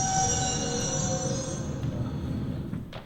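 A train brakes to a stop in an audio drama scene, a sustained high metallic wheel squeal with a heavy low rumble of the carriages, loud and near, fading slightly as it ends.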